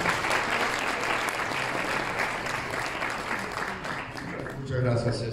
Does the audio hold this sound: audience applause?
yes